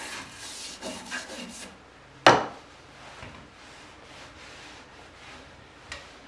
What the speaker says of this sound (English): you start at the bottom and work up, and then you wipe it off as you go